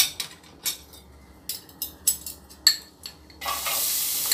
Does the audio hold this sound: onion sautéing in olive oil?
yes